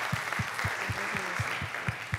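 Audience applause at a talk with a Shaolin master: crowd clapping, with steady low rhythmic thumps about four times a second under the wash of hands, like synchronized beats.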